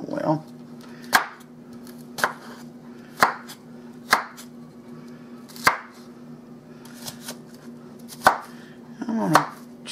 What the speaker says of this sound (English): I'm going to chop them up some.